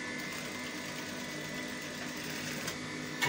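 A sewing machine runs continuously and fairly loud, stitching the neckline of a waistcoat, its even motor whir and rapid stitching steady for the whole stretch.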